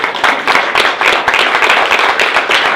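A wedding crowd claps in steady, lively applause, many hands close by and loud for the whole stretch, with no talk over it.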